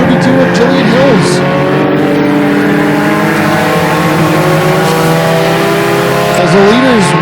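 Pure stock race cars roar around Flamboro Speedway in a loud, continuous engine drone with rising and falling revs as cars pass close by, under a race commentator's steady voice.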